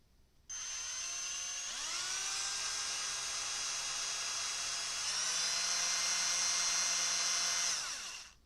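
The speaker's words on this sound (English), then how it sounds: "I'm just going to drill some holes" A power drill whirs steadily for about eight seconds while boring holes, starting abruptly, its pitch rising a little partway through before it winds down, close and loud with no talk.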